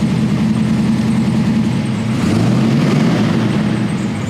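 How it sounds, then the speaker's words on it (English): A 1969 Ford Mustang Fastback Mach 1 restomod engine idles nearby with a steady, loud low rumble that swells slightly partway through, and no speech. "you probably hear a little bit of this Mustang"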